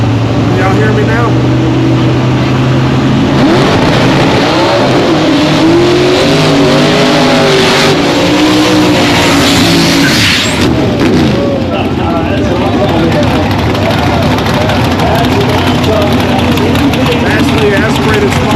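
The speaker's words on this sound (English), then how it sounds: "Naturally aspirated small block in this car on nitro methane" A naturally aspirated small-block race car burning nitromethane roars loudly at a drag racing event, revving and accelerating with a harsh, rising engine note that stays close and dominant throughout, with a commentator's voice talking over it.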